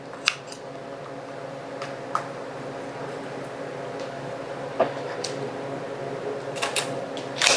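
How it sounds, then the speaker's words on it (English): Scissors snip through a chicken backbone a few times, with sharp, sparse clicks and crunches spread over a steady low background hum. "Until the scissors won't go any further."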